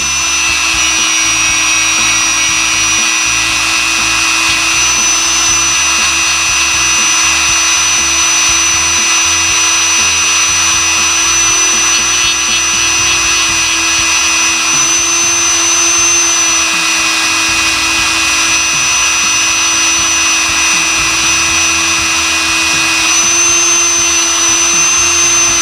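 A rotary tool polishes the feed ramp of a Taurus pistol, giving a continuous, loud, high-pitched motor whine with steady pitch and faint scraping contact throughout, close by and uninterrupted.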